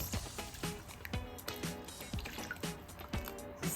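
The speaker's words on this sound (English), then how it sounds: "Add enough water to be able to soak the fish, to cover the fish." Water is poured over tilapia in a cooking pot for pepper soup, with steady splashing and dripping liquid sounds, repeated gurgling plops close by, and no talking.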